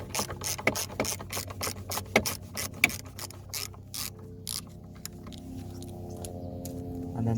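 Ratchet screwdriver clicking rapidly as T20 Torx screws are undone from a BMW E90 3 Series air filter box, close, dry ticking in irregular runs that thin out toward the end.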